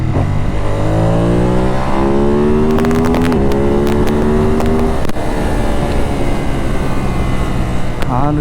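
A Ducati Monster 937 L-twin motorcycle engine revs hard through the gears, pitch climbing steadily between shifts, loud and close over rushing wind noise.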